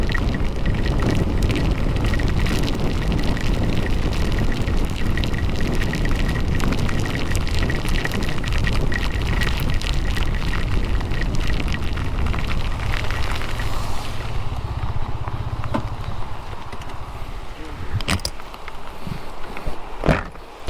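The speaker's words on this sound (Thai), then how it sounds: "ตอนนี้ฝนตกหนัก" Heavy rain pours at Khun Sathan National Park in Nan, Thailand, on a touring ride on a Yamaha Nmax155. It makes a loud, dense, steady roar that thins and changes after a while, with a few sharp knocks near the end.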